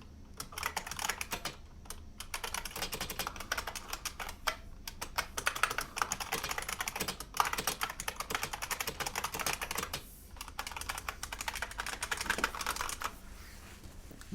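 Steady, continuous clatter of typing on a mechanical keyboard, close and fairly loud, with dense rapid keystrokes and a few short pauses, no talking.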